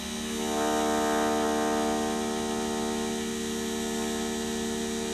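A mini wood lathe motor, set to low speed, hums in a steady electric drone that swells slightly as it spins up, then holds an even tone close by.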